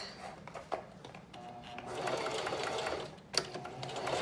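Sewing machine stitching folded fabric, a fast mechanical whir in short bursts with brief pauses between runs, close and fairly quiet.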